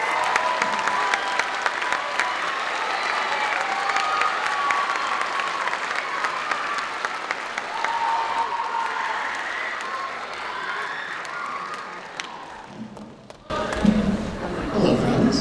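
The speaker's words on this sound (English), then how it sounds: "can we please clap it out for our great assistant director" An audience at a school winter concert applauds the assistant director, dense steady clapping lasting about thirteen seconds before it fades and a voice begins close to the microphone.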